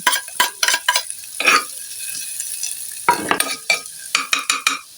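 Garlic dropped into hot cooking oil for squid adobo, bursting into loud, close crackling sizzle with rapid spitting pops, interrupted by metal utensil scrapes and clinks against the pan.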